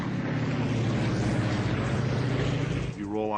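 A Wildcat fighter plane diving with its propeller engine roaring steadily and loudly, ending with a sharp change in pitch, while someone narrates over it.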